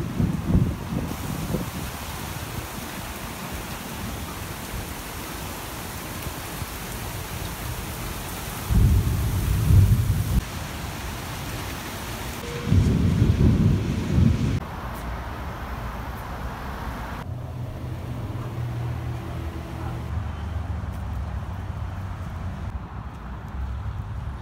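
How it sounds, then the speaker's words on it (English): A heavy thunderstorm in Florida pours steady, dense rain while deep rolls of thunder swell up twice, loud and rumbling, then ease back into the constant downpour. "this storm is raging right now"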